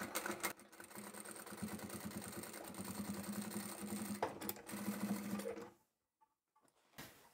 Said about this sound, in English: made sure my needle is in the down position so that it keeps the fabric together before I start my back stitch